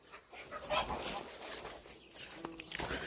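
Muscovy ducks on a farm give scattered, faint calls and squeaks, mixed with other soft farmyard noises at a moderate distance.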